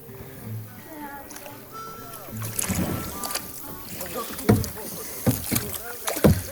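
A kayak is paddled on a river, with paddle splashes and water strokes growing stronger toward the end, under wind noise and nearby chatter.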